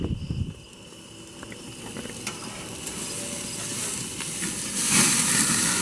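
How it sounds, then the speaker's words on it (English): Burger patties sizzling on a hot cooking surface while one is flipped with a spatula, a steady hiss with scraping clicks and a brighter sizzle surge near the end, close and without talk. "I'm going to flip the burger just to see how it's doing"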